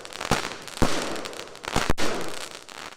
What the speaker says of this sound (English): the highlight of the weekend for many was Saturday's fireworks spectacular that lit